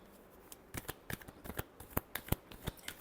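Tarot cards shuffled by hand, a series of crisp riffling flutters and slaps in an irregular rhythm, close and fairly quiet, with no voice over them.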